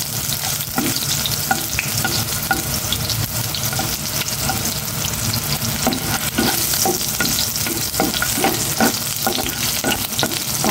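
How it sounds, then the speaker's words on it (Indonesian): Onion and garlic sautéing in cooking oil in a pan, a loud continuous sizzle with frequent scraping strokes of stirring throughout, close up and without speech. "Magigisa na ako sabay na itong sibuyas at bawang"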